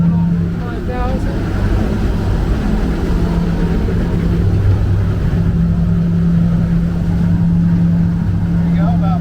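A Stabicraft 2250 Supercab aluminium boat cruising at about 5,000 RPM on twin 2023 Suzuki 115 outboards, a steady loud engine drone with water rush throughout, and a person talking over it.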